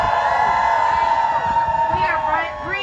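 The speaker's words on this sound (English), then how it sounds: "Big cheer for yourselves." Outdoor crowd at the People's March on a brisk Minnesota day giving a big sustained cheer, whoops and shouts blending into a loud steady roar.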